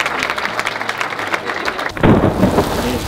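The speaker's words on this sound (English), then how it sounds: "Thunderstorms with heavy rain washed out the golf games planned for after dinner." Heavy rain hisses steadily during a thunderstorm at Cold Lake, with a deep rumble of thunder swelling in the second half and loud, close, continuous downpour throughout.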